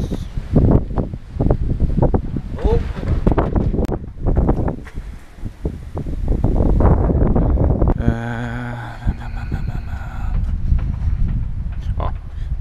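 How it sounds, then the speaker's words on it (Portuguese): Strong mountain wind gusts and roars against the microphone in Montenegro near the Bosnian and Croatian borders, loud and continuous, with people talking over it and a brief tonal burst partway through. "Olha só o vento, cara. Olha isso."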